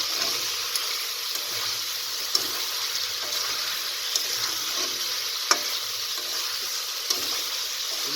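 Desi chicken fries with salt in a pan, a constant hissing sizzle with occasional sharp taps of a spoon against the pan at irregular intervals, and no one speaking.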